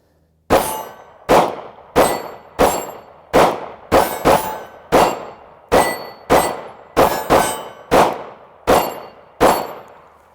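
Sig Sauer P320 pistol shots striking steel targets, about fifteen sharp cracks each followed by a ringing clang, fired at a steady, fairly quick pace and heard up close with no talking.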